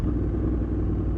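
A Yamaha R6 sports bike at a racetrack, its engine a steady, dense mid-pitched roar heard close and alone for about a second.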